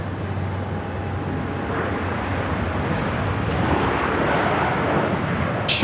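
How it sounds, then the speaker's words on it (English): An Air India airliner touching down at Sydney Airport, heard as a steady broadband roar that holds loud and even throughout, from a fair distance. "Air India, just touching down"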